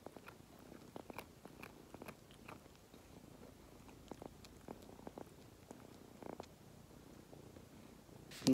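A cat purring loudly and steadily close by, with faint irregular clicks or chewing-like ticks scattered through and a short bump at the very end; no one talks.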